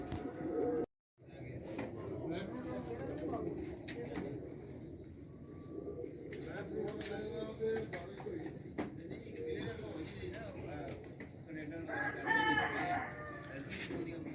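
Pigeons in a loft coo faintly amid other birds, with a rooster-like call in the background, a low steady murmur of birds with brief sharper calls, briefly cut out near the start.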